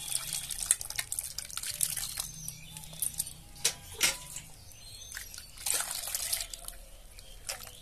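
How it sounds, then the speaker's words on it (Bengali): Water is poured into raw mango for a sherbet and mixed in, giving soft drips, trickles and small splashes close by, with no talking. "এবার জল দিয়ে এটা গুলবো।"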